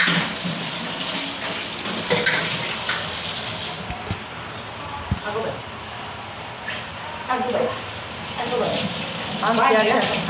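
Dishes are scrubbed under a running tap at a home sink, with water spraying and splashing in uneven bursts alongside clinks and rubbing, while someone talks over it.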